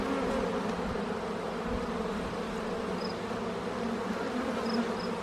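Honeybees buzz continuously around an open beehive during an inspection, a dense steady drone close by with occasional louder passes near the ear.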